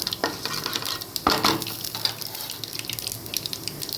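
Urad dal fries in hot oil with popped mustard seeds as tempering for a brinjal kootu. A crackling sizzle continues under sharp stirring taps and scrapes against the pan.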